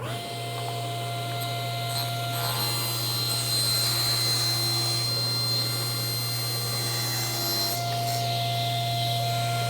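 A small 5/8-inch wooden strip is cut from a jewelry-box piece: a continuous, close machine hum carries a rougher rasping cut through the middle stretch that eases off near the end.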